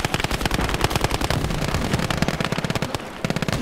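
Sustained Maxim machine gun fire in the World War II game Gates of Hell, a loud, rapid, continuous burst of shots that briefly pauses near the end before resuming.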